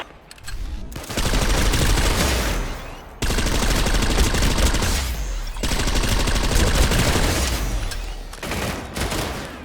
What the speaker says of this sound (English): Take them out using your rocket launcher or light machine gun.